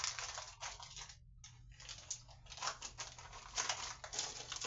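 A bin is pushed into a plastic bag, giving bursts of crinkling and rustling plastic close by, with brief pauses, over a low steady hum.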